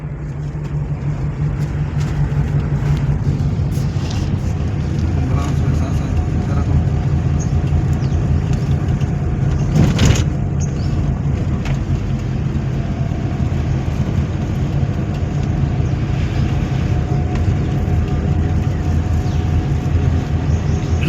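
A car's engine and road noise hum as a steady, loud drone throughout a driving lesson, with one brief knock partway through.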